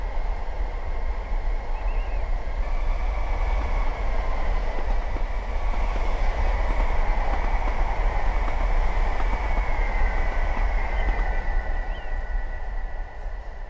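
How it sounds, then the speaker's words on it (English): A Gatwick Express electric train in Train Simulator 2020 runs with a loud, steady rumble and a sustained high whistling whine over the track noise, continuous throughout with no talking. "That whistling noise they make is so nice."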